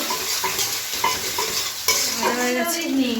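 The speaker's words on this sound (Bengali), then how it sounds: "এবার একটু ভালো করে এই মশলাটাকে একটু নাড়াচাড়া করে নেব" A spoon stirs cumin paste and turmeric, loosened with a little water, in hot oil: loud close scraping and knocking strokes over a bubbling sizzle, with no voices.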